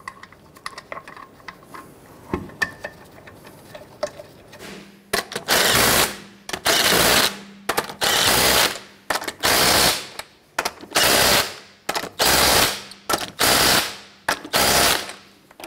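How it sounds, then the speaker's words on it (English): An impact or ratchet tool snugs down the lug nuts on a 1999-2004 Jeep Grand Cherokee rear wheel, starting with light clicks and then running in loud, regular mechanical bursts of about a second each, close up. "we'll come back and snug them down."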